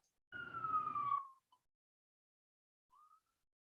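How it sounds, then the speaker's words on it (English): A single police or emergency siren wail outside the windows sweeps downward for about a second, fairly distant and alone, followed by a faint brief tone moments later. "Apologies for the sirens outside our windows right now."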